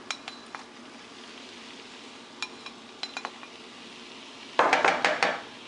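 Eggplant curry ingredients with ground ginger, curry powder and tomatoes stirred in a pan by a utensil: scattered light clinks and taps against the metal, then a louder run of scraping, clattering strokes near the end.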